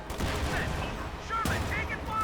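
Gunfire in Company of Heroes 2 during a 1v1 match, with a 57mm anti-tank gun hitting a Sherman and Flak Panther fire, heard as a dense, steady clatter of shots and impacts under a commentator's voice, with one sharp burst midway.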